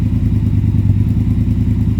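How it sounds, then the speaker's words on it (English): A 2022 Triumph Speed Twin motorcycle engine, with its O2 sensors refitted, idles close by, a loud, steady, low rumble with an even pulsing beat. "the bike is idling a lot better than it was without the O2 sensors"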